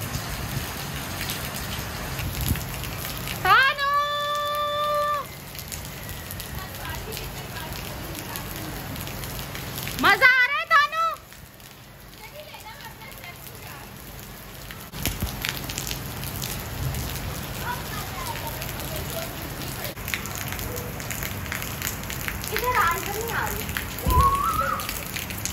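Moderate rain falls outdoors as a steady, continuous hiss. A couple of brief tonal calls or whistles rise above it early on, and faint scattered sounds come and go.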